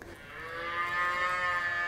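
Cows moo in one long, sustained, fairly loud low call that swells slightly toward the end, with no talking.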